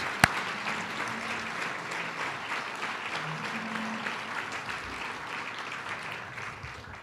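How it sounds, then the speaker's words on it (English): Audience applause for the 2017 Hall of Fame class at an induction ceremony, a steady, even wash of clapping that holds at moderate level for several seconds, opening with one sharp louder clap. "Let's give another round of applause to our 2017 class."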